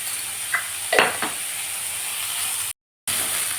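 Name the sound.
sautéing cabbage, carrot and beetroot in a pan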